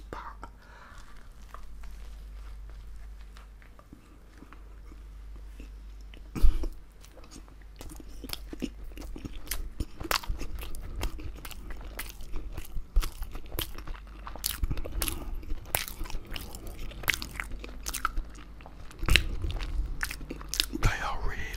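Close-up eating of a Richmond meat-free sausage sandwich, with soft bites, crunches and wet chewing repeating steadily at very close range, occasionally joined by faint whispering.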